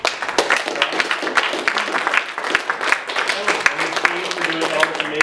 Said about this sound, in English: Another round of applause to